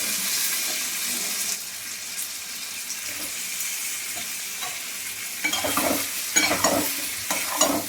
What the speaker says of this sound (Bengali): দিয়ে আমি একটু মশলাটাকে কষে নিই। হয়ে গেছে, এর মধ্যে আলুগুলো দিয়ে দেবো